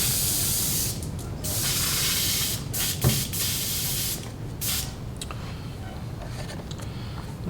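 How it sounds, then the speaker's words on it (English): Paint spray gun being rinsed out after a heat-set step on a crappie fishing lure, steady loud hiss of spray running through most of the stretch with brief gaps and a sharp click near the middle. "Rinse out the gun just real quick here."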